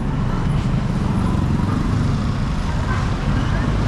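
Steady highway traffic roar with the broad low rumble of passing cars and trucks, heard continuously at close range while a cyclist waits to merge into a lane.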